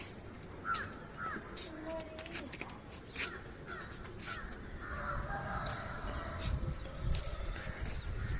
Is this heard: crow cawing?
yes